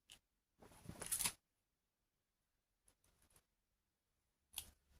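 Scissors cutting a piece for a shabby-style magnetic canvas craft, a close crisp snipping burst followed by a few faint clicks and another short snip, with quiet gaps between.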